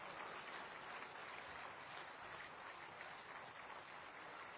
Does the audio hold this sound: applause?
yes